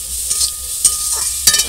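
Grated coconut for a potato and egg filling fries in a pan, a steady soft hiss broken by a few scraping stirs of the spatula, close up and with no voices.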